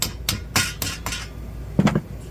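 Hammer tapping on the front hub of a 2012 Jeep Liberty during a hub replacement: several sharp metallic strikes spaced irregularly, fairly close, with a quick cluster of taps near the end.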